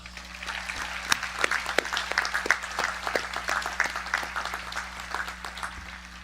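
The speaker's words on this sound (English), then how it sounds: "So give yourselves a huge round of applause." Graduation audience applauding after the class of 2020 is congratulated, a steady mid-level wash of many hands clapping with sharper individual claps standing out, sustained for several seconds with no voices.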